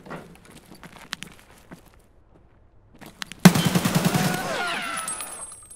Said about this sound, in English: who threw that flashbang?